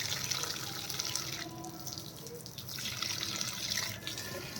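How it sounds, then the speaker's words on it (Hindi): Water runs steadily from a hose or tap onto garden plants and trees, a continuous close splashing hiss that stays fairly even throughout, with no one speaking. "तो यास्मीन लगा रही है पेड़ों में पानी।"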